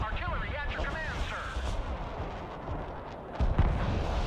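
Artillery fire in the real-time strategy video game Broken Arrow, deep rumbling booms rolling under in-game voice chatter, with a sharper blast near the end.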